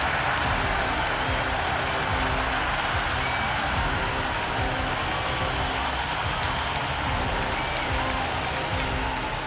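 Stadium crowd in the video game Cricket 26, England versus Australia, roaring and applauding after a six, a dense, steady wall of cheering that stays loud throughout.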